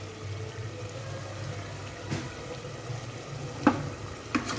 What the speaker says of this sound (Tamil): இப்போது லெமன் பிழிஞ்சதுக்கப்புறமும் நம்ம நல்லா பெரட்டி விட்டுட்டு